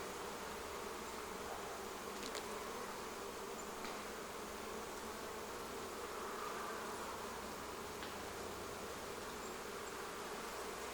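Honeybees swarm over an open beehive with their frames exposed, giving a dense, continuous buzzing drone that stays steady and close throughout, with a few individual bees passing nearer.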